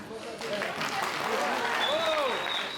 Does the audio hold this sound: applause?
yes